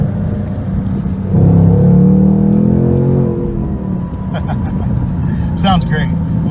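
Exhaust note of a 2019 Ford Mustang Bullitt with its Coyote V8 while driving, a steady low rumble that swells and revs up briefly before easing back into a cruising drone, heard from inside the car.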